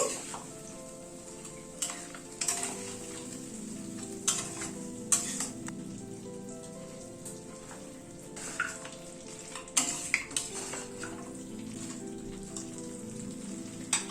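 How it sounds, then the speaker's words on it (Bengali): Mutton cooking in a pan with a yogurt, cashew and poppy seed mixture, a continuous close sizzle with repeated spatula scrapes and clicks at uneven intervals. "এই দই আর কাজু পোস্ত মিক্সচারটা দিয়ে আবার অল্প একটু সময় কষিয়ে নেব"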